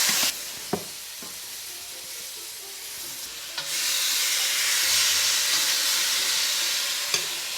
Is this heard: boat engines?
no